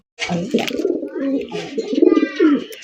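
Indian Kakji pigeons cooing close by in a steady run of low, throaty rolling coos, with a voice mixed in.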